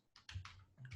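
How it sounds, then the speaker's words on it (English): Quiet keystrokes on a computer keyboard as a command is typed, a quick run of soft clicks with no voices. "I'll type"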